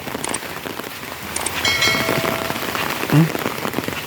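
Steady rain pours across a flooded Sundarban village during the monsoon, a dense continuous hiss of drops on water and surfaces with a brief low thump near the end.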